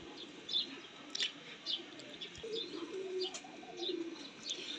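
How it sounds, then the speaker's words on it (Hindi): A breeder pigeon coos softly in soft, repeated low murmurs, with a few faint higher chirps and rustles around it, close and quiet with no talking. "ये ब्रीडर कबूतर है"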